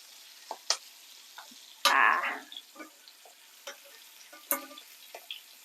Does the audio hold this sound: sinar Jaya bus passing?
no